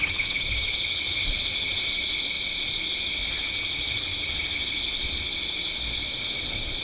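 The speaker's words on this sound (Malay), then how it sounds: "Dan lagi satu saya nak test untuk alarm." A USB camping lamp's built-in alarm shrieks continuously, a loud, piercing warbling tone held steady from start to finish, close by and alone.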